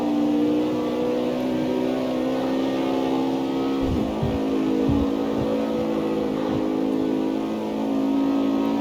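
Sustained high-revving engine roar from a Ford Mustang in the CarX Street driving game, loud and continuous at speed with a few short dips midway, no voices.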